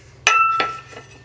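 A wine glass is set into a wooden wine caddy, giving a bright ringing clink followed by a second softer chime and a faint third touch, each tone lingering briefly in a quiet room.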